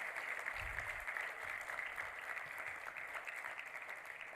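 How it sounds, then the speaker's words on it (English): Steady audience applause fills a graduation convocation ceremony, a continuous, even wash of many hands clapping that sounds faint and distant, without a break across the whole stretch. "Can I please request all the students to give a big round of applause to all the parents, the families, and their partners who are here with us today."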